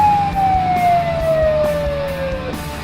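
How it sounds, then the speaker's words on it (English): An ambulance siren wails loudly and close, a sustained tone sliding slowly downward over a low rumbling engine. "Let the ambulance through."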